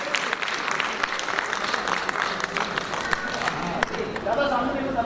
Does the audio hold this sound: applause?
yes